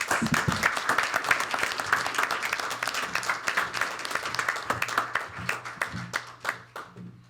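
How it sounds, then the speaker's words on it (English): Audience applause at a committee meeting, dense steady clapping from many hands that thins into scattered, more distinct claps toward the end. "a round of applause"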